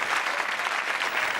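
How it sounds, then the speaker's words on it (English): A studio audience claps loudly at a game show, a brief dense burst of applause heard close and alone. "Another round of applause."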